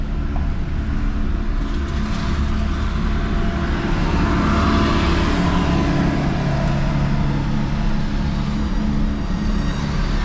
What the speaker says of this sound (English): This guy driving the fork truck